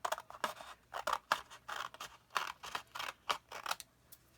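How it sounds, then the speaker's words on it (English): Scissors cut paper along a drawn line, a close series of crisp snipping strokes in an uneven rhythm with short pauses, alone without talk. "I'm going to cut away at that."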